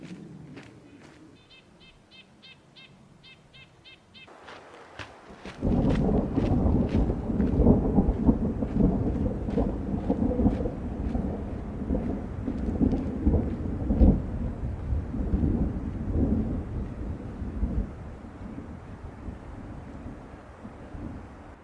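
A deep rumble of thunder rolls in and keeps grumbling over steady rain and wind noise in the Eastern Sierra near Ediza Lake, loud and sustained after a few sharp clicks.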